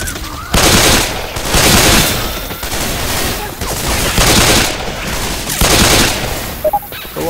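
Gunfire in the video game Left 4 Dead comes in loud, repeated automatic bursts separated by brief lulls, with voices talking over the shooting.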